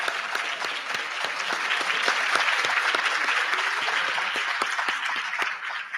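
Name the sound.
applause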